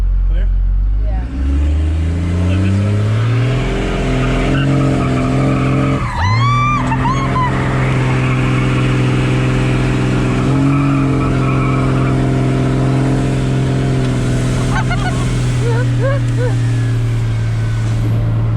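A 2nd gen Cummins 12V diesel truck doing a burnout: a loud, sustained engine drone with tires squealing, rising and falling in pitch, running the whole time while people talk and shout over it.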